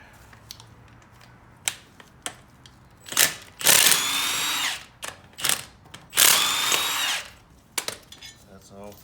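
An 18 mm socket on a power tool zips out brake caliper bracket bolts in two loud, one-second whirring bursts, with shorter clicks and taps of tool handling between them.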